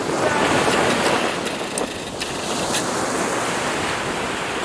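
Surf on Eynon beach on the Gower peninsula gives a loud, continuous wash of breaking waves close by, with wind buffeting the microphone and no talk.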